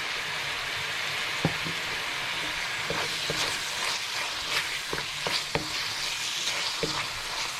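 Squid frying in a spicy homemade sambal paste, a constant bright sizzle with scattered pops and spoon taps as it is stirred, close and fairly loud throughout.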